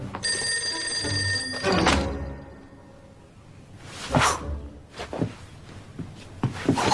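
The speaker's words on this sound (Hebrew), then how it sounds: "טלפון." A telephone bell rings loudly and briefly near the start. Whooshing sweeps and thumps follow in a cartoon-style scene.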